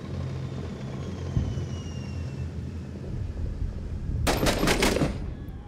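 Gunfire rings out in the video game Six Days in Fallujah: a low rumbling battle backdrop gives way to a loud burst of rapid automatic shots near the end.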